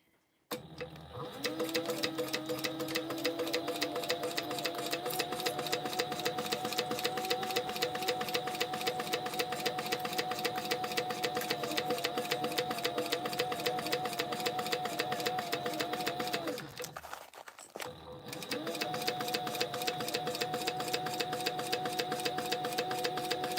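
Backpack pieces being stitched on a sewing machine: a long, steady motorized hum with fast regular needle ticking, close and loud, stopping briefly near the end before starting up again; no talking.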